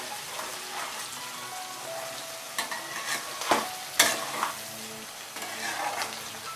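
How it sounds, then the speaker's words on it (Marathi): Sabudana khichdi with chilli and potato stirred in a frying pan, a steady sizzle under repeated scraping and stirring strokes, with a few louder clatters of the spoon against the pan. "सारखं हलवत राहायचं।"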